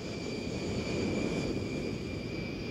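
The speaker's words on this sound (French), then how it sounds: "Cet avion cargo se pose aujourd'hui dans les traces du C-124" A cargo plane lands at Wright-Patterson air base in Dayton, Ohio, its engines giving a steady, broad roar with a sustained whine, heard at moderate distance.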